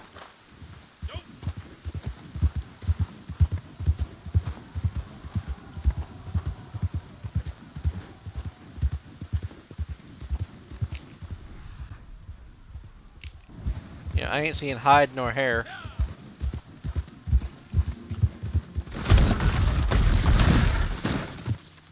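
In a video game, a horse's regular hoof clip-clops trot along at a steady rhythm while someone talks briefly; a whinny-like cry and a loud rushing burst follow near the end.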